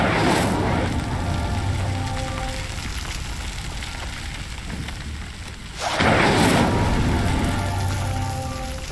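Incendio fire spell cast in Hogwarts Legacy to light sinking pyres: a loud roaring whoosh of flame bursts at the start and again near the end over a steady rushing, crackling wash, with no voices.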